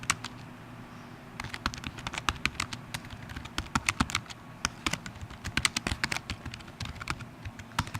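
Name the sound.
typing on a computer keyboard in Google Docs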